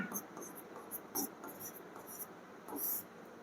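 Chalk or marker scratching across a board during a class 12 physics lesson, a quiet series of short strokes and taps in an irregular writing rhythm, close and faint against a low room hiss.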